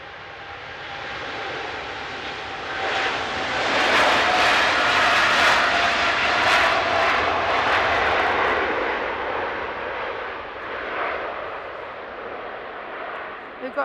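Juneyao Airlines airliner in Ribbons livery departing Manchester Airport, its jet engine roar swelling to a broad peak midway and then slowly easing off, with a voice talking over it.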